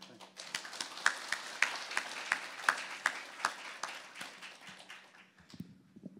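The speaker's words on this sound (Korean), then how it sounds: "힘찬 박수" Church congregation applauding a lecturer in a worship hall: a dense patter of hand claps with a few sharper individual claps, steady for about five seconds and then fading, with brief voice sounds at the end.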